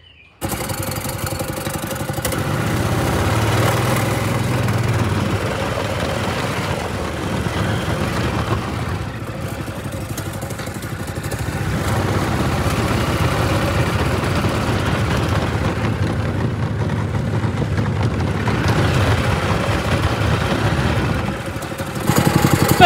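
Small VW-engined go-kart idling to burn off the last fuel in its tank, a steady loud engine drone lasting the whole stretch with slight shifts in pitch.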